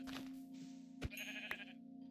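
A sheep bleats in Minecraft, a short nasal cry heard faintly over a steady low game hum, with a couple of sharp clicks between.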